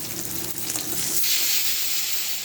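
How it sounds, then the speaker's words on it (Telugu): Fish pieces frying in hot oil: a steady loud hiss and sizzle close by, swelling as the pieces go into the pan, with no talk. "ఒక్కొక్క పీస్ మంచిగా వేసి ఫ్రై చేసుకోవాలి"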